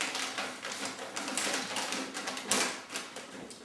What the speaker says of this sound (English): secure the sheets with a piece of tape